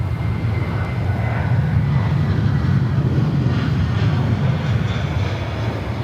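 A Qantas airliner on approach to land on runway 16 right at Sydney Airport, giving a loud, continuous low engine roar and rumble that holds steady throughout, heard from nearby without any voices.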